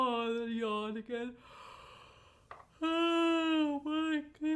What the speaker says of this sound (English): that's a Monday morning yawn if I've ever had one